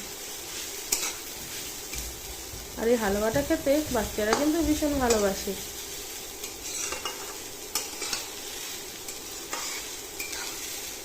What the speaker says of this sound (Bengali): এখন গাজরগুলো ঘিয়ের মধ্যে খুব ভালো করে একটু ভেজে নেব